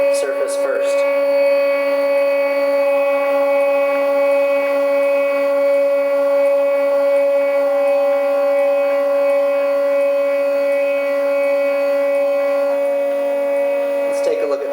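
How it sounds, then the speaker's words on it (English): A single electric motor drives a threaded rod carrying a linear bearing, giving a loud, steady whining hum with a strong sustained tone that runs unbroken for the whole stretch, with faint clicks near the start and end. "There's one motor running. It's just driving a threaded rod."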